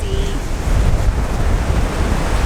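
Steady roar of wind and breaking surf at Holywell Bay beach in Cornwall, continuous and fairly loud, with gusty rumble buffeting the microphone throughout.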